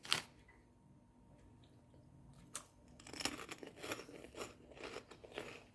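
Crunchy corn-style snack puffs flavoured like red cabbage and dumplings are bitten and chewed close to the microphone: one sharp crunch first, then a steady series of crackly chewing crunches after a quiet pause, with no talking.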